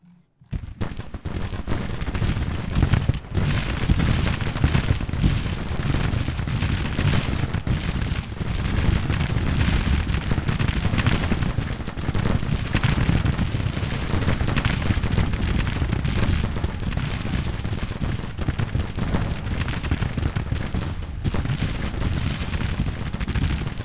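Dense Civil War musket volleys and artillery fire from the Grand Tactician battle game roar continuously, a loud, unbroken rolling crackle of shots and booms filling the whole stretch.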